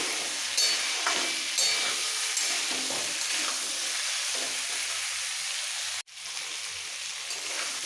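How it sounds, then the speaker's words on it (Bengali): Vegetables with crushed green chillies sauté in a pan for a shrimp and katoa stem dish, making a constant bright hiss and sizzle with a few light stirring scrapes, briefly cut off near the end. "একসাথে খুব ভালো করে একটু কষিয়ে নিতে হবে"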